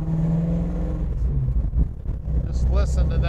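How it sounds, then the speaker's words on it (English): A 1968 Ford Mustang Fastback restomod rumbles through its exhaust at light throttle, a deep steady engine burble with a brief dip and swell, close and loud, with no talking over it. "Just listen to that exhaust."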